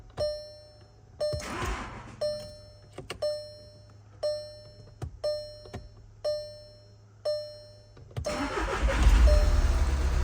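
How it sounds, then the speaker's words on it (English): Several evenly spaced warning chimes ring out, then a Volkswagen SportWagen TDI turbo diesel engine cranks and catches, settling into a loud, rough rumble. "Let's try and start the car"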